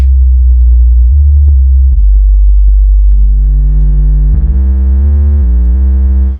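A loud synthesizer bass tone wobbles and shifts pitch, with pulsing low notes giving way to a buzzy, harmonically rich synth line.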